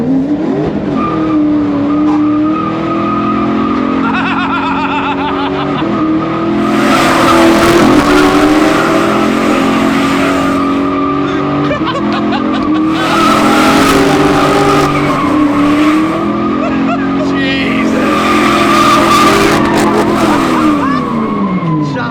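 A BMW V8-powered Ford Transit van drifts with loud, continuous tire squeal and skidding over a roaring, revving engine, the screech rising and falling in repeated waves as it slides; people shout in the background.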